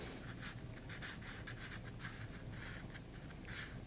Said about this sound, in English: I'm going to just rough in very quickly here a sketch